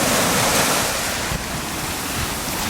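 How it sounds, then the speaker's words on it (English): Ocean waves breaking on the shore at Laguna Beach, heard as a steady, loud broadband roar of surf mixed with wind buffeting the microphone, with no talking. "look at that wave."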